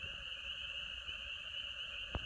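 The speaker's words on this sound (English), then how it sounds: "listening to the frogs, making all their noises" Faint chorus of frogs croaking at dusk outdoors, a steady high trill running throughout with a single sharp click near the end, no voices.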